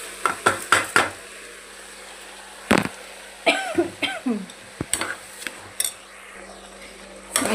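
Soaked, washed rice poured into a cooking pot for vegetable pulao and stirred, giving a series of close metallic scrapes, taps and clinks in irregular bursts, with quiet gaps between.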